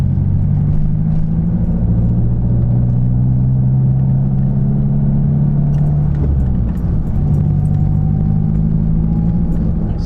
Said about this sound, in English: You guys are probably wondering how it sounds in cabin, just driving normally.